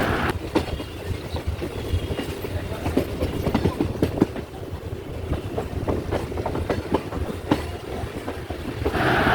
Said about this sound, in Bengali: এই হলো ব্যান্ডেল জংশন আমাদের ট্রেন ছেড়ে চলে যাচ্ছে নৈহাটি জংশনের উদ্দেশ্যে